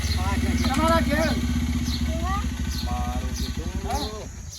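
A motorbike engine idling and puttering close by with a steady low rhythmic chug, under several people talking over it.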